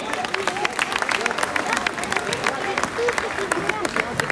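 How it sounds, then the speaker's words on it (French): An audience applauds a finalist at a kids' roller skating podium ceremony in Gacé, with dense, steady clapping and crowd murmur running under an announcer's voice. "On l'applaudit bien fort."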